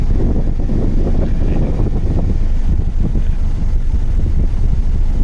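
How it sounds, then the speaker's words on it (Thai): Air rushes steadily from the dashboard vent of a 2012 Isuzu D-Max pickup's air conditioner, a loud, constant broadband whoosh close to the microphone with no breaks or talking. "มาให้ดูความแรงลมนะครับ จะทำการเปิดนะว่าได้เท่าไหร่นะ"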